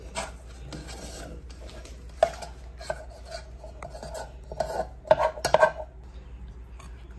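Mashed potato for tuna cutlets is stirred in a bowl with a spoon, giving close, irregular scraping and clinking of metal against the bowl, with soft squishing between the louder knocks.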